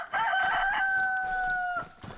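A chicken in DayZ crows once, a loud, close rooster call lasting about two seconds and followed by a quiet cluck.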